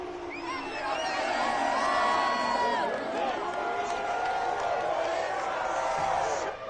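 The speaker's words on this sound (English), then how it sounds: "And this crowd loves it as their guys hold on the opening drive." Football stadium crowd at an NFL game between the 49ers and another team, roaring and cheering steadily after a defensive stop, a dense wash of distant voices with whoops and shouts sustained throughout.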